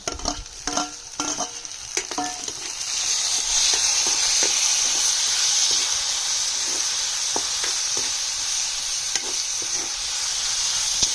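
Tomatoes fry in a pan for a village-style wet cashew bhaji, with a loud, steady hiss and sizzle throughout and sharp clicks and scrapes from stirring, heaviest at the start.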